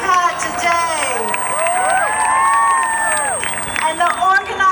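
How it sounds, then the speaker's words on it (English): An outdoor crowd at the San Francisco Women's March in 2018 cheers and applauds for the speakers, loud whoops and shouts rising and falling in a lively burst. "Let's all give a big round of applause for Mona and these incredible speakers we've had today."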